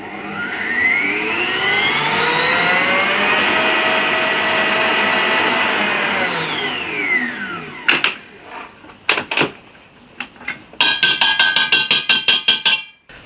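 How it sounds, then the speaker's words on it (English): Stand mixer beating egg yolks and sugar at high speed, a loud, steady whirring drone that rises in pitch then winds down and stops, followed by a few sharp clinks and scraping knocks against the bowl. "Add the sugar, and we will mix at high speed during maybe 1 or 2 minutes."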